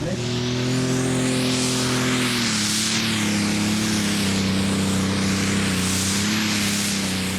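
A diesel engine on the Blue Bambino pulling tractor at a Danish Championship tractor pulling round in Frederiksund drones loud and steady through a full pull, its pitch holding strong with a slight drop partway through.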